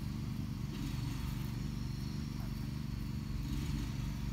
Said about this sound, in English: It doesn't matter which direction you spin the motor.